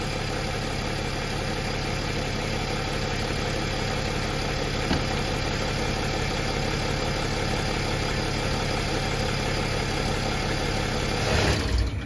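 A Mercedes ML350 W164 engine idles with the 722.9 transmission being serviced, a steady, close, even hum with a faint knocking texture and no voices.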